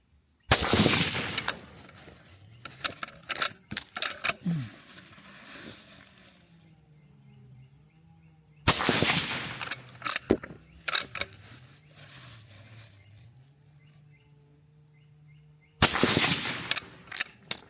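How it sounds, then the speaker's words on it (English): Three loud rifle shots fired from a scoped rifle on Picatinny mounts, each a sharp blast with a ringing tail, spaced several seconds apart, with handling clatter and rustle between them. "Now I'm going to punch 3 rounds through it and see where our point of impact is."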